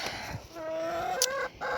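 A tailless rooster and hens cluck close by in a short, steady run of rising and falling calls with no one talking.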